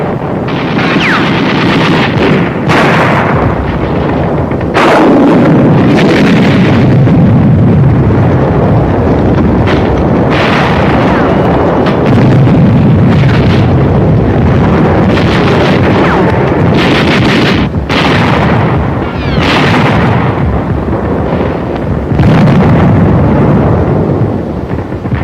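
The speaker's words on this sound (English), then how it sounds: "Carried rocket gun. Firing it takes close teamwork." A hand-carried rocket gun fires amid battle explosions on New Britain in 1944, loud repeated blasts and roaring bursts at irregular intervals over a continuous rough, wind-like rumble, filling the whole stretch with heavy noise.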